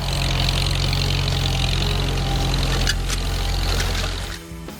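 A vintage tractor's four-cylinder inline engine of 152 to 164 cubic inches runs steadily with a deep low throb close by, then the sound thins and drops toward the end.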